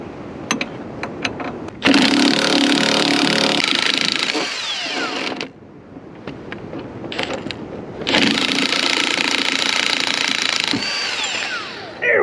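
Impact tool removing wheel and sway bar bolts on a Jeep WJ: two loud close bursts of buzzing rattle, each several seconds long, separated by a quieter gap with metallic clinks.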